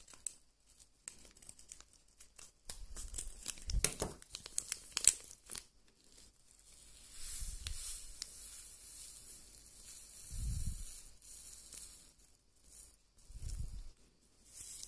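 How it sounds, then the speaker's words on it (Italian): Crystal experiment sachet crinkling and tearing as it is cut open with scissors, close and fairly quiet, with brief rustling bursts scattered through a mostly still background. "E questo è il contenuto della bustina. Che ci vorranno quindi le forbici,"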